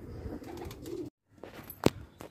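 A pigeon coos faintly in a rooftop loft, low soft calls broken by a brief gap and a sharp knock.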